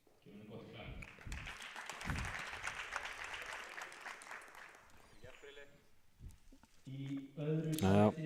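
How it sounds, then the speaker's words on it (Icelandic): Applause for a third-place medalist at an Olympic weightlifting summer meet, a crowd's clapping that swells after a brief announcement and runs for several seconds, then fades as a voice speaks over a public address system. "Gefum henni gott klapp."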